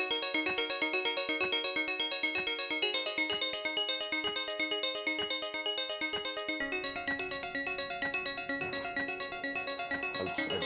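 A Novation Summit synthesizer plays a chiming, ringing arpeggio of fast repeating bright notes, steady and sustained, with a deeper sub layer filling in partway through.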